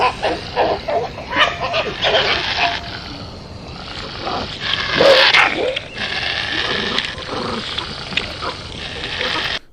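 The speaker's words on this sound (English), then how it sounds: "So a nice solid growl across here" A fox growls in a played-back field recording from the Sierra, rough and raspy, rising and falling over several seconds with a few louder bursts and a grainy background hiss.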